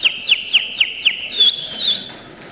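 A person whistles a bird-call imitation, a quick run of five sharp chirping notes followed by a longer warbling trill, close and clear.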